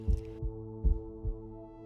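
Heartbeat sound effect with two double thumps, deep and muffled, in a slow, regular rhythm over a low steady hum.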